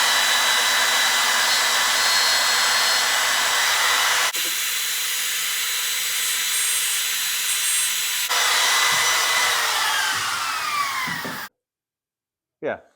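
A wood router trims the height of an exposed tenon on a rocking chair part, a loud, steady high whine running close and continuous, briefly changing pitch, before it cuts off into silence and a soft knock.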